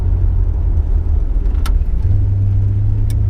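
A 1956 Chevrolet Bel Air with a 265 small-block V8 engine, a loud, close, steady engine rumble that shifts slightly lower in pitch partway through, with a couple of brief clicks.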